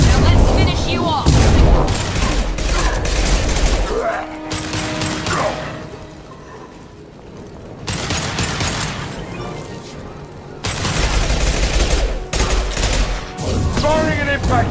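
Mass Effect 2 combat with bursts of gunfire, booming impact-shot power blasts and mechanical weapon clatter, loud and dense with a quieter lull midway, mixed with voices talking.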